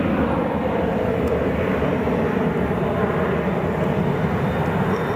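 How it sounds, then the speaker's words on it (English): An Emirates Airbus A380 at Boeing Field gives off a continuous, loud, even engine rumble and roar that stays steady from start to finish with no talking. "That's an Emirates A380."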